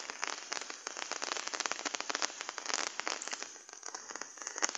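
Rain falls outdoors in a monsoon setting, a close, crackling patter of drops hitting a surface, dense and uneven throughout with no voices.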